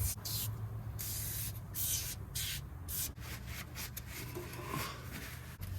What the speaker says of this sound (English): I'm just gonna spray it everywhere.